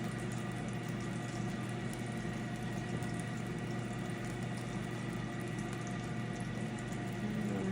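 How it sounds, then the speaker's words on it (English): Water and ice coming out of a refrigerator door dispenser, a steady, moderately quiet rushing flow that holds unchanged throughout with no talking. "I use these to get the water and the ice out of the fridge so that I don't make a hellacious mess"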